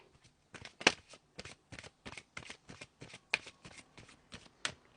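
Oracle cards are shuffled by hand in a quick, crisp run of riffling snaps, close and clear against a quiet background.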